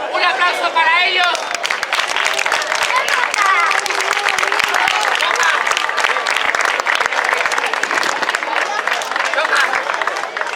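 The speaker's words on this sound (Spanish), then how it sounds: "Un aplauso para ellos" A beach audience applauds at a clown's outdoor show, with dense, steady clapping throughout mixed with crowd chatter and a voice speaking over the start.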